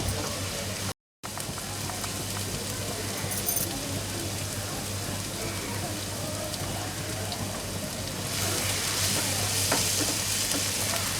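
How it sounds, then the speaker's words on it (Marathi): Onion with ginger-garlic paste sautés in a pan while dry prawns are prepared, a continuous close hiss of frying that swells louder near the end, with no one speaking. "छान परतून झालं आपला कांदा आणि आलं लसूण"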